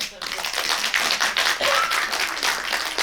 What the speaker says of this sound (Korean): 응원의 박수 감사드리고